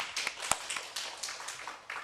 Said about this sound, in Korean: 자, 성령 충만한 가운데 하나님께 영광의 박수 돌리겠습니다.